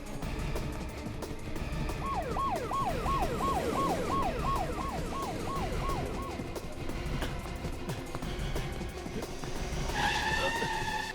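A police car in pursuit accelerates away with engine roar and skidding tyres, a wailing siren rising and falling repeatedly over the busy street noise, loud and close.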